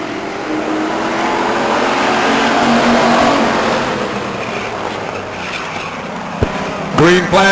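Pure Stock Division race cars roar around the high banks of Stockton Speedway in a steady engine drone that swells and fades, ending with a few sharp clunks and a short burst of noise.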